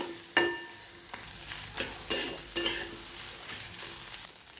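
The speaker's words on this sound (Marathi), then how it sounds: "असं झाले, चांगलं असं सुट्टं झाल्यापर्यंत तोपर्यंत परतायचं" Beaten eggs for egg bhurji stir-fried in a hot pan: a soft, steady sizzle with repeated close spatula scrapes and stirs at an uneven rhythm, no voices.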